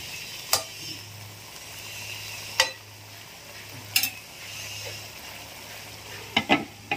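Sautéed chayote with fish sauce and a little salt simmers in a pan, giving a low steady bubbling hum broken by a few sharp utensil clinks and scrapes against the pan.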